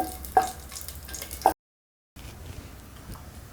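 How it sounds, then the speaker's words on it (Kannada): Bay leaf, stone flower, marathi moggu, cinnamon and cloves frying in a little hot oil for tomato rice, a soft steady sizzle with two brief louder clatters, a short silent gap, then quieter continuous frying. "ಪಲಾವ್ ಎಲೆ, ಕಲ್ಲುವ, ಮರಾಠಿ ಮೊಗ್ಗು, ಚಕ್ಕೆ, ಲವಂಗ ಹಾಕ್ಕೊಂಡು ಸ್ವಲ್ಪ ಎಣ್ಣೆಲಿ ಫ್ರೈ ಮಾಡ್ಕೋಬೇಕು"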